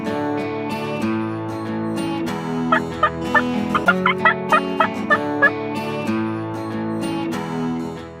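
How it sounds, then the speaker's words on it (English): An American wild turkey in Tennessee gobbles, giving a rapid burst of about ten sharp rattling notes in a row. The calls ring out over steady droning tonal background sound, with no talking. "The American wild turkey is an iconic American bird."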